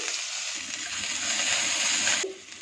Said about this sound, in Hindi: इसमें ऑलिव ऑयल 2-3 टेबलस्पून डाल देंगे। टेबलस्पून लहसुन अदरक का पेस्ट ये शामिल कर देंगे।